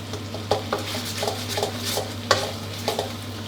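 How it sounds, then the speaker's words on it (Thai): Red curry paste stir-fried in a pan for a catfish dish: a steady low sizzle with a constant hum underneath, broken by repeated close scraping strokes of a utensil against the pan. "แล้วเราก็ต้องผัดพริกแกงให้หอมดีก่อนเ ลย"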